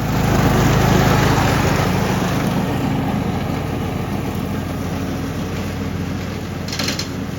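A John Deere LA110 lawn tractor's small engine, just refitted with a new carburetor and air filter, runs at a steady loud idle close by, a continuous low mechanical drone with no talking.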